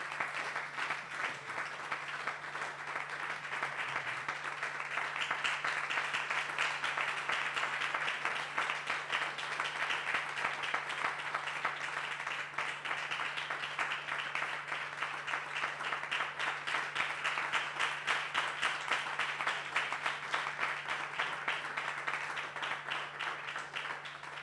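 A church congregation applauds steadily throughout, dense continuous clapping at an even level for the whole stretch with no speech rising above it, a low steady hum running underneath.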